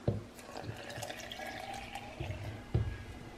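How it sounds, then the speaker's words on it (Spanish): Water poured into a pot over freshly ground lentil powder to make a healthy lentil hot chocolate, a splashing pour with a few knocks and clunks of the container. "Aquí le voy a poner agua."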